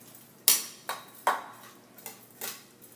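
Fresh salsa being mixed in a bowl with a utensil, about six sharp clinking scrapes in an uneven rhythm, close and clear with no talking.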